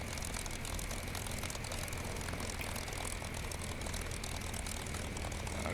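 A P-51 Mustang's piston engine and propeller drone steadily through a wheel landing in the Digital Combat Simulator game, loud and constant with a broad rumbling roar and a faint high whine, and no voices.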